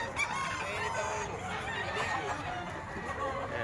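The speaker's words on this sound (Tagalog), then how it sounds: "Napakaraming manok boss." Chickens and roosters at a poultry sale crow and cluck in a dense, steady chorus, with a busy crowd murmuring underneath throughout.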